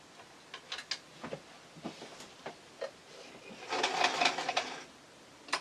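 A basic modern sewing machine stitching a seam on loose stitch, a string of sharp mechanical ticks and short bursts followed by a denser, louder run of rapid stitching near the end.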